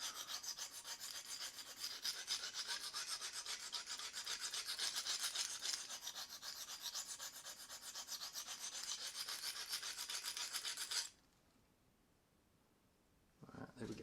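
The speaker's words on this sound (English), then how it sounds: "I'm just going to grind it on one side. Work up a really good burr." A steel broadhead is ground back and forth on the coarse side of a sharpening stone, a steady close rasping scrape for about eleven seconds that then stops, leaving near silence before a brief final scrape.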